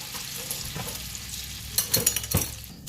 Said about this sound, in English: Hear that butter sizzle?